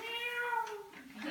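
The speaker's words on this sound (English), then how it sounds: "the sound of cats in heat" A cat in heat lets out a drawn-out, wavering yowl that bends in pitch, loud and close, with no other sound around it.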